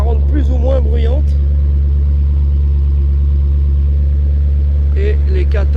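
Loud, steady car engine running throughout at close range, a deep constant rumble with exhaust cut-outs, with someone talking over it at the start and end.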